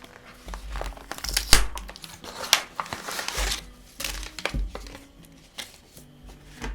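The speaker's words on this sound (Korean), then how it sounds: "바로 박스를 뜯어볼게요" Cardboard packaging of a Daiso embroidery kit box being torn and crinkled open, a close series of rustling rips and crackles in uneven bursts with brief pauses, no talking.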